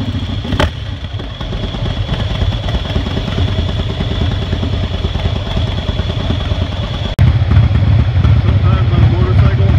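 A motorcycle idling at traffic lights at night, a steady close engine thrum that grows louder toward the end, with a voice talking over it.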